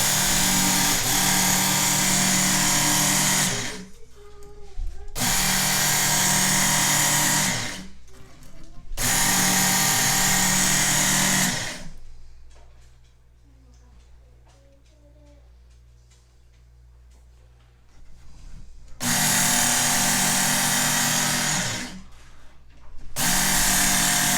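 A loud electric knife sharpener grinds a cheap knife blade in several long bursts, pausing between runs, with quieter scraping and handling sounds during a longer gap.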